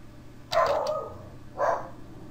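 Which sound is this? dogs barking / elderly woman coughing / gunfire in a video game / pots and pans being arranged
dogs barking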